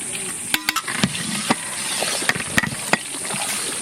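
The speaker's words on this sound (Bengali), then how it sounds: "তেল গরম হয়ে গেছে, মাছটা ছেড়ে দিলাম। দাদা চটপট চটপট করে ফুটছে।" Fish frying in hot oil with green chillies and ginger for an aloo posto curry, a constant close sizzle broken by sharp irregular pops and crackles, with no talk.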